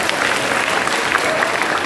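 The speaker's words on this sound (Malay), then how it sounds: "bagi tepukan untuk diri sendiri" Audience applause at a motivational talk, steady and dense clapping from a crowd filling the room throughout.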